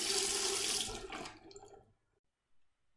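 Tap water runs into a sink to wet a fingertip before rubbing the rim of a wine glass, a broad steady gush for about a second and a half that trails off into near silence.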